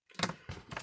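Scissors snip through ribbon during a flipbook craft project, giving a few short, crisp cuts close by with brief pauses between them and no talking.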